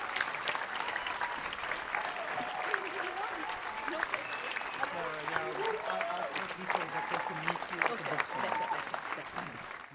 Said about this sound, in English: another round of applause for Vandana Shiva.